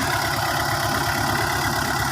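A used Kubota L4508 DT 45 hp tractor engine idles steadily, a close, even diesel rumble with a regular low pulsing throb throughout.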